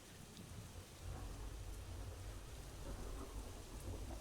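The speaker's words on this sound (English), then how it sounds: "Just the storm." Steady rain falls through a thunderstorm, with low rumbling thunder underneath. Both are faint and distant, and no voices are heard.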